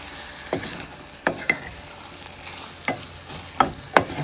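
Rice for mint pulao is stirred in a pot, producing a handful of scattered scraping and clinking strokes over a faint sizzle, close and moderately quiet with no talking.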